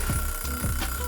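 A kitchen timer's alarm rings in short, rapid electronic beeps, close and fairly loud, during a canned apple pie filling preparation.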